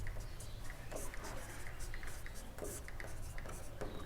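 A pen writes out a maths problem, making faint, close scratching strokes in short, irregular bursts against quiet room tone.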